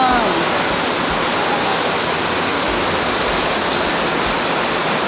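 Floodwater rushes through a flooded maternity hospital after heavy rain, a steady, loud broadband roar with no pauses that fills the whole stretch like a torrent.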